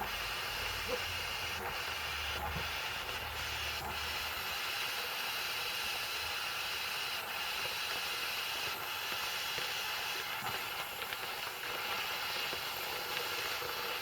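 A torch heating the carburetor of a Honda water pump, a steady close roaring hiss running unbroken throughout, with faint light clicks and no speech.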